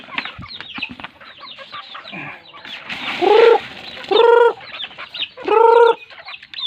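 Backyard chickens clucking close by in a busy chorus, with several loud drawn-out squawks or crow-like calls standing out over the constant chatter, no talking.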